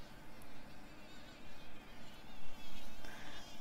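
A honeybee held in the fingers for tagging gives a steady, close, fairly faint buzz that wavers in strength without pause.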